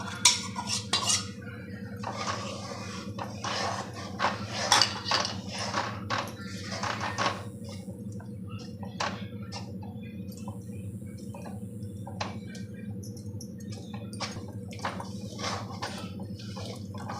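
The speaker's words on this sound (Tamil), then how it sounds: "அரைச்ச மாவை அதில் போட்டு கலரிடலாம் கெட்டியாக கலரணும்" Ground rice batter stirred slowly with ghee in a pan for Ganesh Chaturthi milk kozhukattai, giving irregular scraping clinks of spoon on metal over a low steady kitchen hum, with a few soft drips and faint bird chirps in the background.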